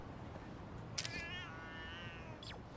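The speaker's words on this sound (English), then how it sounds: "Why are there cats here, by the way?" Cats in the video game Lost Judgment let out two drawn-out meows, one long and clear and then a shorter one, close and alone against a soft background hum.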